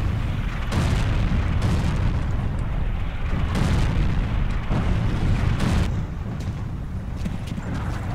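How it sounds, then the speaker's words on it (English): Tank cannon and artillery fire in the video game Forgotten Hope 2 at the Siege of Tobruk, with repeated heavy booms roughly a second apart over a continuous loud rumbling battle din. "cannon fire."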